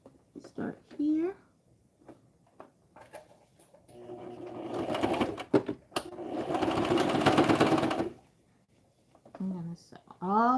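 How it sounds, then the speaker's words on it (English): Sewing machine stitching across a fabric scrunchie to close its opening, running in a couple of bursts of steady whirring mixed with brief clicks and handling noises, with a person talking between the runs. "I'm gonna sew all the way across until I close off that hole."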